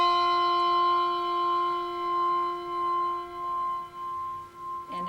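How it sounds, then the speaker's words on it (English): A handbell struck with a mallet gives a bright metallic tone that rings steadily with clear overtones, holding and slowly fading, close and fairly loud with nothing else around it. "we can use a mallet and hit the bell to get kind of a pizzicato sound"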